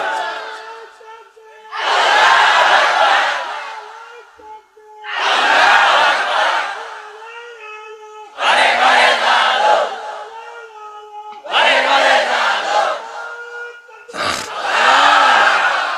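A large crowd shouts the takbir in loud unison, five powerful chanted bursts spaced a couple of seconds apart, each answering a leader's call over a public address system.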